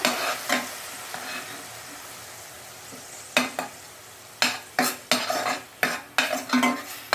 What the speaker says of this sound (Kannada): 2 ತೊಗೊಂಡು ಇದು ಸ್ವಲ್ಪ ಹಸಿ ವಾಸನೆ ಹೋಗೋವರೆಗೂ ಸ್ವಲ್ಪ ಈಗ ಫ್ರೈ ಮಾಡಬೇಕು